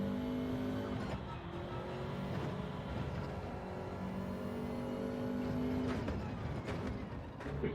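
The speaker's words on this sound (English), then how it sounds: "Flip down into 2nd, up into 3rd, on the power, nice and early" A race car in Gran Turismo 7 roars through a downshift and upshift, its engine note dropping and climbing again under a continuous loud drone, with slight tire noise throughout.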